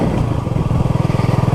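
Honda CB250RS motorcycle idling and pulsing on light throttle along a slippery green lane, a steady close thumping exhaust beat that quickens slightly toward the end, heard alone.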